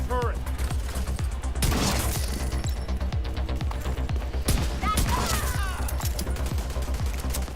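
An automated turret in The Division 2 fires sustained rapid bursts, a dense rattling stream of gunfire with sharp cracks and impacts throughout, loud and close.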